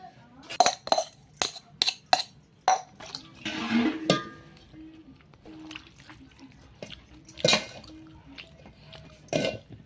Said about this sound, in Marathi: तर चला घेऊ आता पटकन मेथीची भाजी धुवून अगोदर